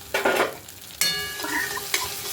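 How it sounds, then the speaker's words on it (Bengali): Ginger paste hits hot oil with a bay leaf and whole garam masala, sizzling loudly in bursts as it is stirred, with three sharp onsets of frying noise and no voices. "একটু আদা বেটে রেখেছিলাম সেটা ওই তেলের মধ্যে দিয়ে দিলাম"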